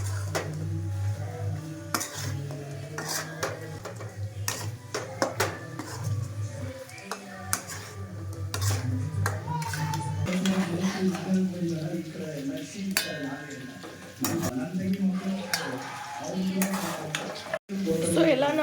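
A spoon stirs chicken curry masala in a pan, with repeated scraping and clinking against the metal and a faint sizzle, while someone talks over much of it.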